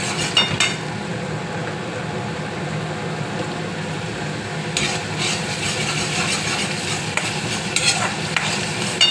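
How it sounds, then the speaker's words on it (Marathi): Onions frying in a pan until reddish-brown for chana masala, a steady close sizzle with stirring scrapes and a few utensil knocks, continuous throughout with no talking. "कांद्याला मी तवसर भाजीन जोपर्यंत लाल नाही होईल"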